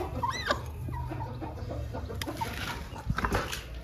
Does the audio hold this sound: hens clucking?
yes